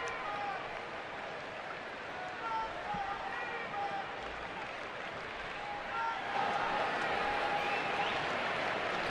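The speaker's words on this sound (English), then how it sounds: "Crowd getting into it here, trying to help Saito and the defense." At an Arizona home baseball game against the New York Mets in July 2012, a stadium crowd cheers and applauds as Takashi Saito pitches, a steady distant roar that swells louder toward the end.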